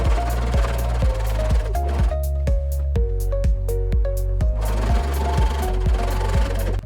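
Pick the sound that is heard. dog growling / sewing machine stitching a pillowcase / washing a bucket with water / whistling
sewing machine stitching a pillowcase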